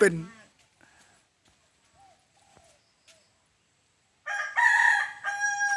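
A rooster crows loudly and nearby, a long harmonic call that bursts in after a mostly quiet stretch with faint rural background sounds.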